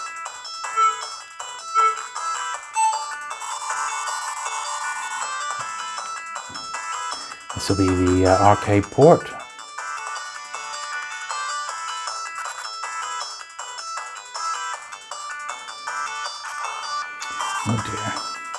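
The chirpy FM music from OutRun on Sega Genesis, playing on an Anbernic RG350 retro handheld, bright and steady with a brief burst of game noise midway; someone talks over it.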